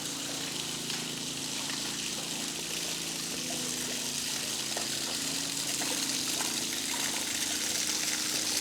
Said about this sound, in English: And it's actually got its own waterfall at the end.